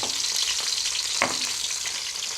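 Shrimp stir-frying with young chili peppers in hot oil, a steady close sizzle with a few sharp spatula scrapes and pops.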